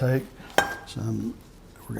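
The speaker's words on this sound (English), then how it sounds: "Let's get a pot from right here. Okay. Just a regular frying pan" A metal pan clanks down onto a stovetop with a single sharp knock that rings briefly, between short bits of nearby speech.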